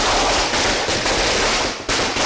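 Fireworks burst in rapid, crackling succession at a welcoming celebration in Ranchi, a dense, loud string of sharp pops with a brief dip near the end before the barrage resumes.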